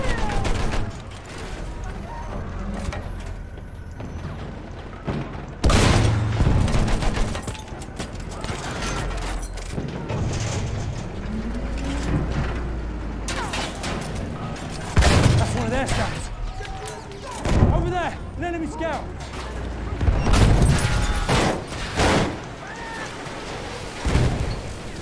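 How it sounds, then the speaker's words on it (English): Battlefield 1 combat near a tank at Amiens: sharp bursts of gunfire and heavy impacts scattered irregularly, some loud and close, with in-game voices and player talk in between. "Machine gun over there!"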